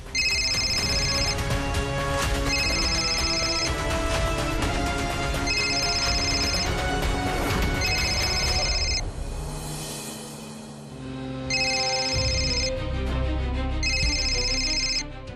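A mobile phone ringtone plays in repeated bursts of a bright looping melody over background music, with a short pause partway through.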